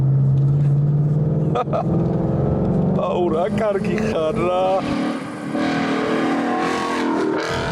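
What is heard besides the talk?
car engine revving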